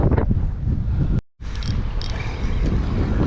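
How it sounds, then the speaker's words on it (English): Strong gusts of wind batter a fishing dock, roaring and buffeting the microphone loudly and continuously, with one brief drop-out partway through. "You can hear how windy it is. It's really, really windy out here right now."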